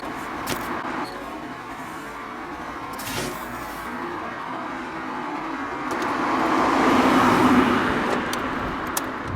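A 2003 Honda S2000 (AP1) drives along a road with a steady engine and road noise close by, swelling louder toward the end with no talking.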